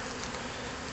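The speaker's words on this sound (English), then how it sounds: "the bees are going to freak out. They're going to hit the air big time" A dense, steady buzzing of many bees fills the air, close and continuous, with no voices.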